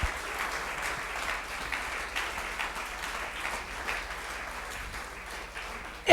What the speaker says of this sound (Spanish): Apláudalo con alegría.